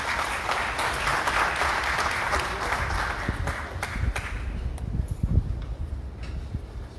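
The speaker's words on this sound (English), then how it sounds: "Let's give him a round of applause." Audience applause at a community event in Brooklyn on a hot afternoon, a steady dense clapping from a crowd that holds fairly even for several seconds before thinning into scattered, closer claps.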